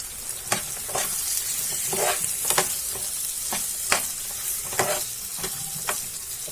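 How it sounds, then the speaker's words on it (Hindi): Green peas stirred into fried masala for matar paneer, a constant sizzle with repeated sharp scrapes of the spoon against the pan, close and even in rhythm. "अब इस टाइम पे हम मटर डालेंगे और इसे मिला लेंगे।"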